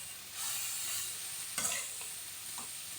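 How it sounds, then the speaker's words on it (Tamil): Cabbage with turmeric stirred in a frying pan for a Kerala-style cabbage poriyal, a soft steady sizzle with scraping stir strokes, a sharper clatter near the middle and a few light knocks after, no voices. "மஞ்சத்தூள் எல்லாம் போட்ட பிறகு மிக்ஸ் பண்ணிவிடுங்க."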